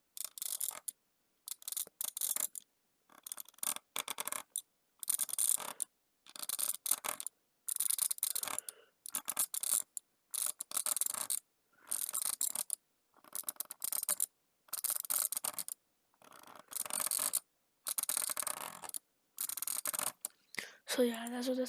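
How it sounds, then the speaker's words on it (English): Rapid bursts of drag clicking on a Logitech G502 mouse arrive as dense clusters of tiny clicks, separated by short silent gaps and repeated steadily throughout. "that's what it sounds like for the Logitech G502"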